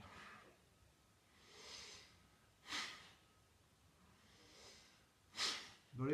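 Breathing during a kriya breathing exercise, with several soft inhales and exhales that swell and fade, the last ones sharper and more forceful, close to the listener, with quiet talk in between.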